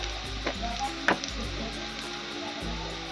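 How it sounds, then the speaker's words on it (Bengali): Spices sizzle and fry in a pan, a continuous crackling hiss broken by a few sharp clinks and scrapes of stirring, close up, with no talking. "ভালো করে আমি মশলাটাকে ভেজে নেব"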